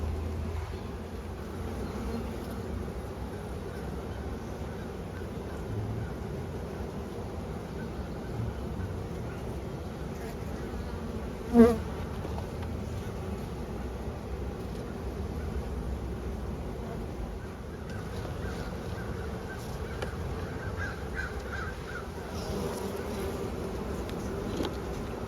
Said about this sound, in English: So this hive is noisy.